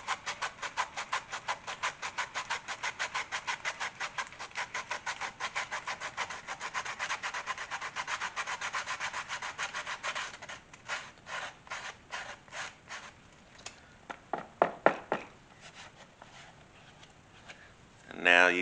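Sandpaper rubbing over the edge of a leather kukri sheath in a fast, steady rasping rhythm for about ten seconds, then slower scattered strokes, close and moderately loud.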